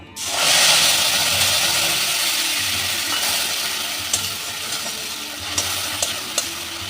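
A loud sizzle bursts up as garlic and ginger paste hits hot oil, then settles into steady frying hiss with a few stirring clinks near the end.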